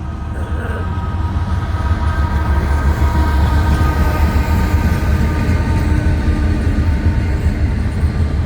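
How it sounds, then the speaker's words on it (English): A train rumbles past on the railroad tracks close by, a loud continuous roar of wheels and cars with a low steady drone and faint tonal hum, no voices over it. "here comes the train"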